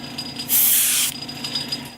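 An airbrush sprays paint for Halloween haunt props in one short, close burst of steady hiss lasting about half a second, with quiet room noise before and after.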